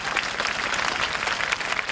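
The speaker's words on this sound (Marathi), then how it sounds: "अस्मिताताईंसाठी टाळ्या वाजवा, माझ्यासाठी नाही." Audience members at a lively comedy games event clap in thick, continuous applause, fairly loud and steady from start to finish, with no talking heard.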